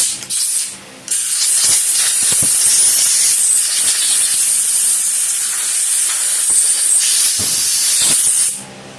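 Compressed air blasts through the holes of a Kohler 23 hp carburetor in a loud, close, steady hiss lasting several seconds, with a brief break near the start and a tapering end.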